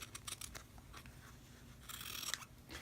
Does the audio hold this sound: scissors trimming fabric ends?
yes